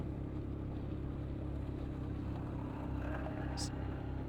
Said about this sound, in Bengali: এবার একটা ঢালে আমরা উঠতেছি, 3rd গিয়ারে আছি, বাইক খুব আস্তে নিচে উঠে যাচ্ছে।